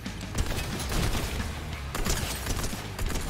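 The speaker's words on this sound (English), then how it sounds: "If this guy could please stop shooting me, that would be amazing." Continuous dense gunfire in the battle royale game Fortnite, a steady clattering barrage of shots blending with explosion-like noise, loud and close throughout.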